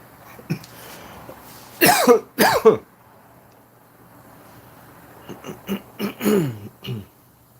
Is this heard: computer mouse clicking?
no